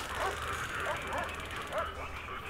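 A dog barks and yips in Prison Architect, a few short, fairly quiet yelps over steady background game sound.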